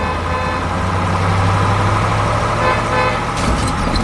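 Vehicles drive along a quiet town street with a steady, close rumble of car and truck engines, and a short horn toot sounds near the end.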